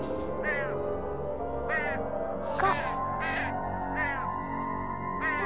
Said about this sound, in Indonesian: Iya suaranya banyak banget. Kayak burung berkuak-kuak deh.